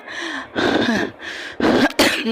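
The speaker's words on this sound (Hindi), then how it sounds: "अरे अरे, आपको खांसी आ रही" A person coughs several times in quick, harsh bursts, close and loud, a brief fit of throaty hacking with short pauses between.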